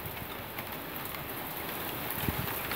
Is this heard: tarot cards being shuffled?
no